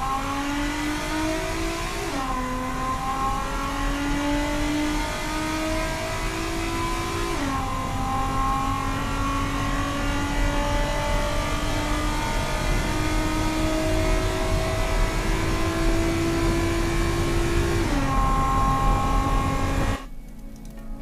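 Venturi Atlantique in the Automation game accelerating from 0 to 100: an engine revs up steadily through several gears, each shift marked by a brief drop in pitch, loud and continuous, ending with a sudden cut.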